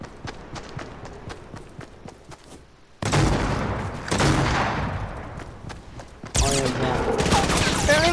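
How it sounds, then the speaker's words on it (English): Rapid bursts of video game gunfire break out loudly in repeated volleys, with a sustained barrage near the end, following a stretch of quieter game sounds. "Are you shooting at me?"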